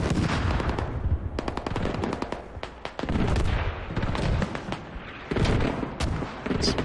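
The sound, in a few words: mortar fire and gunfire in a video game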